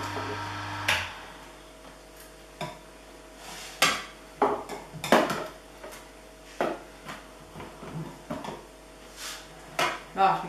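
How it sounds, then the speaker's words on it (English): A knife stirs green juice in a big jug, giving scattered clinks and taps against the container at an irregular pace, close and fairly quiet. "I haven't got a spoon with me, so I'll just use this knife. Stir this up, mix it all together."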